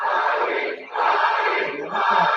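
A large wrestling crowd chants for The Rock, a loud, sustained roar of voices that rises in two surging waves with a brief dip between them, close and filling the arena.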